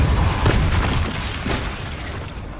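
The Confringo blasting spell in Hogwarts Legacy lands as loud, close bursts of booming, crackling noise, two sharp hits within a dense, roaring wash of combat sound.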